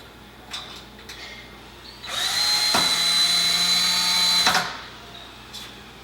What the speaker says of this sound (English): So you're going to take your self-tapping screws, cordless screw, driver,